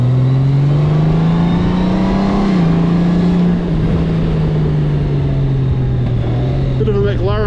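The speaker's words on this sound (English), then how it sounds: "the Goldwing might not sound like a Harley, but it does have a nice sound all its own" A Honda Goldwing motorcycle engine droning close and loud on a winding road, a smooth steady hum that rises slightly in pitch then eases back, continuous throughout.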